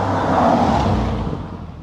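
A loud Volkswagen Polo drives past close by, a strong engine roar that swells and then fades away over about two seconds.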